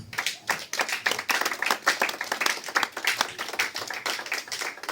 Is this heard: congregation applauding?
yes